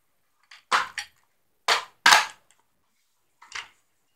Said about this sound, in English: now let's see if I can put this mag in without screwing this up